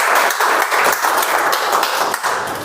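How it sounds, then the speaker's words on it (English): An audience at a Toastmasters meeting applauding as a speaker comes to the stage, a dense, even patter of many hands clapping at close range throughout. "Please give her a loud round of applause."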